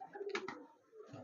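A pigeon in a loft gives a single soft, low coo, faint and close, with a short rustle partway through.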